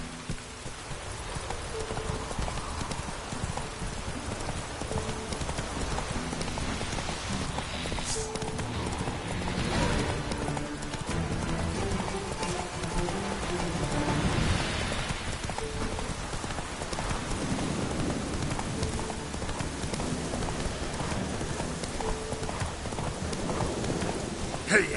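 Geralt's horse Roach in the Witcher 3 video game gallops with a steady clip-clop of hooves, carried under continuous rain-like hiss and in-game ambience. A voice speaks briefly over it.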